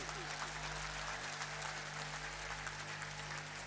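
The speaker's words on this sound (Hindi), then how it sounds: "अरे जोरदार तालियां आपकी" Applause from a large crowd at a protest rally at Ramlila Maidan, a dense, steady wash of clapping that fills the whole moment and blends into the general crowd noise.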